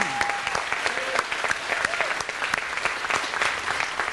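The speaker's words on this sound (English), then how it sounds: "give a round of applause to Barbara Weisberger" Sustained audience applause at a new building unveiling ceremony for a dance-world figure, dense steady clapping from a crowd throughout, fairly close and loud with no talk over it.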